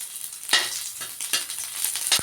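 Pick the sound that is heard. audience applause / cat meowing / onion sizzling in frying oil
onion sizzling in frying oil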